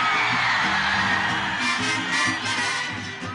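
A crowd shouts and whoops loudly over a ranchera song mix, with many voices blending into a dense, continuous roar that stays close and strong throughout.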